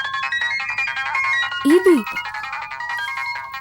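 A mobile phone ringtone plays a looping electronic melody indoors in a Tamil TV drama scene, ringing steadily while people talk over it.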